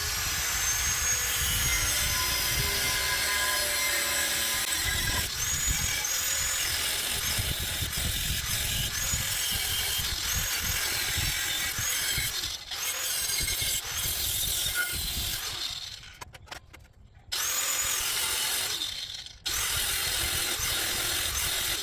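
A power saw cuts out a support piece in a van ceiling, a loud continuous rasping whine running nearly throughout, briefly dropping out near the end before resuming.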